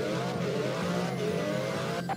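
Racing cars in a Chrome browser racing game, a continuous loud engine drone with wavering pitch and tire noise, steady throughout with no break.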